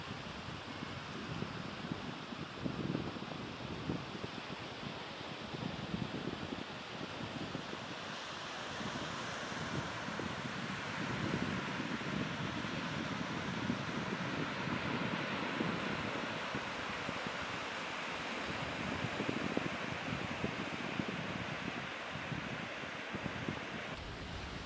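Steady wind and rolling surf on the beach at Lower Largo, a continuous roar of breaking waves mixed with gusting wind buffeting the microphone, loud and unbroken with no voices.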